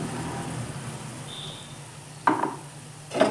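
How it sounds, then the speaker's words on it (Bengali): Kashmiri chili powder gets stirred into spices frying in a pan for jackfruit curry, a low steady sizzle with two sharp scraping stirs near the end, close by. "কাশ্মীরি লঙ্কার গুঁড়ো দিয়ে একসঙ্গে একটু ভালো করে মিশিয়ে নেব"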